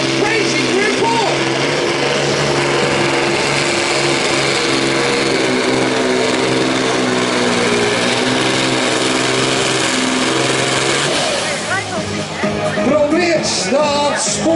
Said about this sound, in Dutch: Bij de motor die echt wel wil, maar niet het ideale contact met de baan kan maken hier.